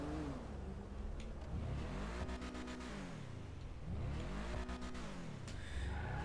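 Engine of an Ubermacht Cypher (BMW M2) in GTA 5, revving up and down in repeated sweeping rises and falls with shifts between, moderately loud and close.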